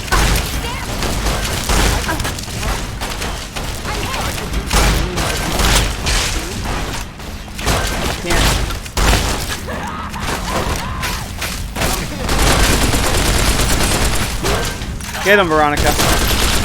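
Dense, continuous gunfire and booming impacts from a firefight in Fallout: New Vegas on PC, loud and sustained for the whole stretch, with a voice speaking briefly over the shooting.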